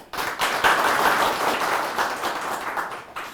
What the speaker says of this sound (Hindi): तो मैं चाहूंगी कि सभी हमारे विशेषज्ञों का स्वागत जोरदार तालियों के साथ किया जाए